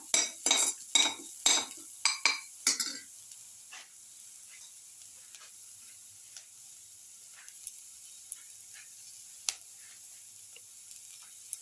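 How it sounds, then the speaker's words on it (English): Garlic pieces sautéing in a pan, opening with several loud clanking strikes and scrapes of a utensil against metal, then settling into a faint steady sizzle broken by occasional light taps. "Garlic saute mix."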